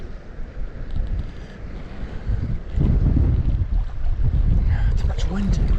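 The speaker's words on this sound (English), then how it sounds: "Too much wind." Strong wind buffets an outdoor microphone on a trout fishing trip, producing a steady low rumble that grows heavier about halfway through.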